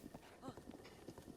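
Horse galloping in the video game Zelda Breath of the Wild, a quick rhythmic run of hoof clops, faint and low in level, with someone talking over it.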